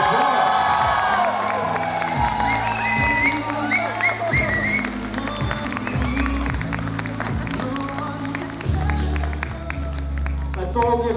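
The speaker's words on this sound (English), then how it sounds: "give a warm round of applause for Jack" A wedding reception crowd cheers and claps in a loud, continuous mix of applause, whoops and shouts, with music playing underneath throughout.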